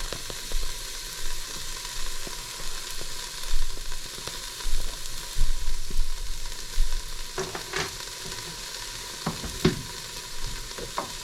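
A spice fries in a pan with only a teaspoon of oil, giving a steady close sizzle with light scraping and stirring knocks throughout.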